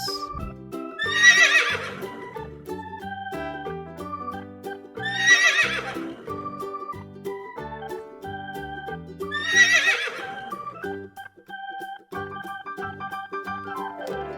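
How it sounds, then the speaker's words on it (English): A horse neighs three times, each a loud, shaky whinny spaced about four seconds apart, standing out against a steady bed of background music. "horse"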